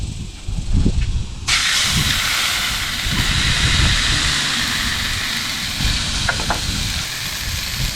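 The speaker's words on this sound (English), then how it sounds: "Now it's time for the sear action." Meat sears on a Lone Star Grillz 24x40 grill, a loud, steady broadband sizzle and hiss that jumps up suddenly and then holds, with faint crackles underneath.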